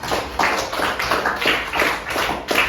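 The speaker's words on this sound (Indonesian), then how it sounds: "Tepuk tangan dong untuk Farel." A classroom of students claps together in a quick, rhythmic, unison beat, a run of about eight close, even strokes for a classmate, loud and without talk.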